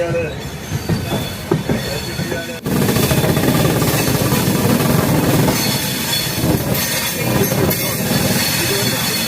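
The Janshatabdi Express runs between Tiruchirappalli and Thanjavur with a loud, steady rumble of wheels and carriages and squealing rails, growing sharply louder after a quieter opening few seconds.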